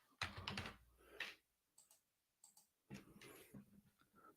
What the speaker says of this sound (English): he's working that keyboard tonight